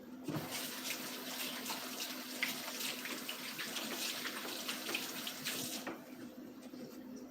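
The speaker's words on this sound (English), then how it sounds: "Now, I'm going to wash some glue off of my hand." A running tap pours steadily into a sink while glue is washed off hands, a continuous close rush of water that cuts off near the end.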